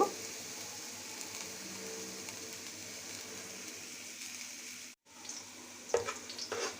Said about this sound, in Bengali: পেঁয়াজ গোল্ডেন ব্রাউন করে ভেজে নিব